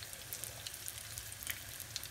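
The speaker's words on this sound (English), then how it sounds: "So let's start frying our egg rolls." Steady crackling sizzle of egg rolls frying in hot oil, with scattered sharp pops over a soft continuous hiss, fairly quiet and close.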